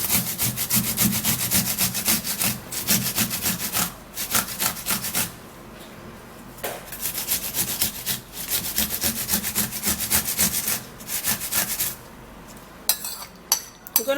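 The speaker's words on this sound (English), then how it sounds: "I'm also going to be grating the cucumber." A cucumber is rubbed against a kitchen grater in quick, repeated rasping strokes, loud and close, broken by a few short pauses.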